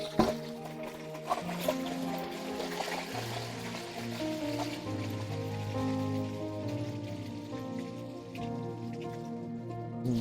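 Salt water poured into hot oil while frying tapioca chips sets off a dense, steady crackle and hiss, like heavy rain, lasting the whole stretch with low sustained tones beneath it.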